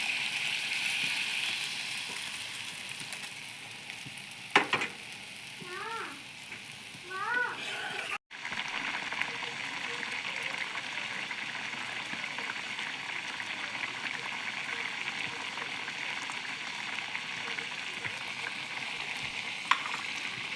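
Fried spices simmer in hot water poured over them for an Assamese home-cooked dish, a soft steady bubbling and hiss that runs throughout, with a couple of faint clinks and brief background chirps.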